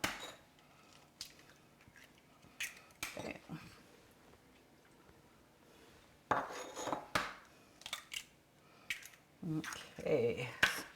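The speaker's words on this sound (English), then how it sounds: "we're going to beat that with the 2 eggs" Two eggs being beaten into cake batter in a bowl, heard as bursts of scraping and clinking utensil strokes against the bowl, fairly close and uneven, with quieter gaps between.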